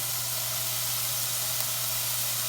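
Thawed, finely chopped gondre greens fry in a generous pour of perilla oil, giving off a steady, close sizzling hiss without a break and with no talking.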